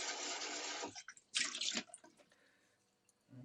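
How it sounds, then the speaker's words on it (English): Kitchen tap water runs for a quick rinse of a saucepan: a rushing stream for about a second, a second short splashy burst, then scattered drips and quiet, without any voices. "Quick rinse."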